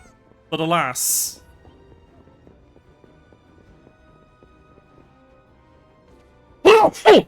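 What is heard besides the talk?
sneeze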